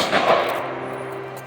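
A rifle volley fired on command for a July Fourth salute in Custer, South Dakota, heard as a single sharp report that rings out into a decaying outdoor echo.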